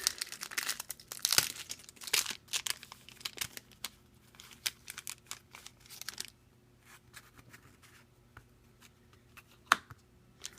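A foil trading card booster pack wrapper is torn open and crinkled close up, with busy bursts of crackling and rustling that thin to occasional soft crinkles and card shuffling, quiet and without talk.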